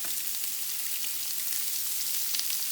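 Lobster tails frying in a pan for lobster and shrimp Alfredo, a dense bright sizzle that stays close and steady throughout, with no talking.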